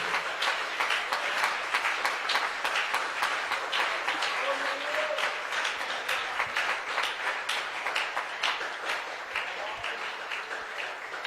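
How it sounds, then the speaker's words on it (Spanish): A congregation clapping for the Lord during an evening church service, rhythmic and fairly even claps blending with voices in the background. "¿Por qué no aplaude al Señor en esta noche?"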